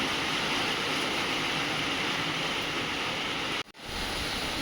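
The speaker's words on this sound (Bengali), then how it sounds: "যে বৃষ্টির আওয়াজে তোমরা শুনতে পাচ্ছ।" Heavy evening rain heard from a balcony: a dense, steady roar of falling water, loud and close, continuing without a break apart from a brief dip near the end.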